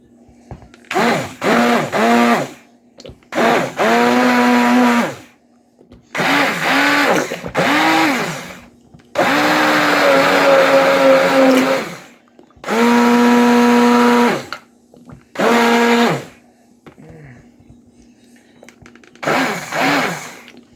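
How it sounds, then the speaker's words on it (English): A stick blender whirring in repeated bursts through melted-down baby soap batter, about eight loud buzzing runs of a few seconds each separated by short pauses, the motor pitch shifting slightly as it works. "So now I'm going to stick blend it"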